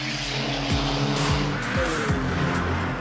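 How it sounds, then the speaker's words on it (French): Cars in an illegal night street race on Réunion roar with revving engines and tires squeal in long skids, loud and close, with no talk over them. "Des courses de voitures extrêmement dangereuses, lors desquelles tous les excès sont permis."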